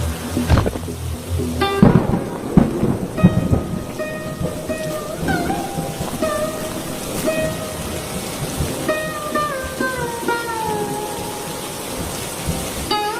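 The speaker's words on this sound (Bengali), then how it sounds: "বৃষ্টি হচ্ছে এমনি," A cartoon rainstorm hisses steadily, with thunder rumbling beneath it and a soft melodic score playing over the rain throughout.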